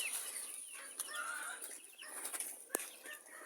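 Hens and small chicks move around a backyard enclosure, giving soft, faint clucks and brief wing flutters against quiet surroundings.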